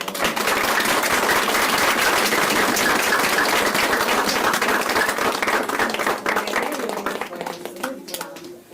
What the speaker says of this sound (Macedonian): Ја молам аплауз за